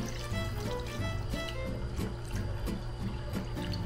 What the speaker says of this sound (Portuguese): Agora a gente mete a água.